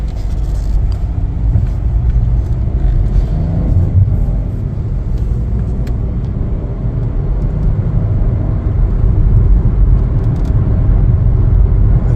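A Chevrolet Trax on the road gives a continuous low engine and tire rumble from inside the cabin, steady and fairly loud with slight swells, no voices.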